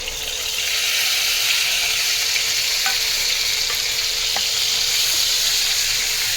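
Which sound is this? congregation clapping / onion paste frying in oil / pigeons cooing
onion paste frying in oil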